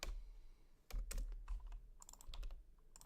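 Fingers tap out bursts of quick, light keystrokes on a computer keyboard, close and faint, with short pauses between clusters.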